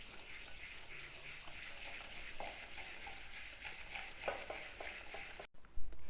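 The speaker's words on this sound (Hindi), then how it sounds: "और इसे अब हम मिक्स करेंगे अच्छी तरह से।" Cream and cardamom powder stirred together in a bowl for sweet tikiyan, giving a steady soft scraping and stirring texture with a few brief clicks near the end.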